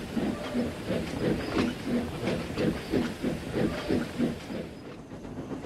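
A toy steam train from the Take N Play Thomas and Friends range leaves the yard with rhythmic chuffing and hissing steam sounds, repeating steadily and close by, with no voices heard.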